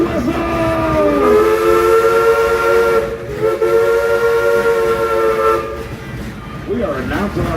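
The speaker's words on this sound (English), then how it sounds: "Ichabod, blow a whistle!" A steam locomotive whistle on the Frisco Silver Dollar Line heritage train blows loud and close in two long sustained chords with a brief break between, over rumbling train noise and some voices.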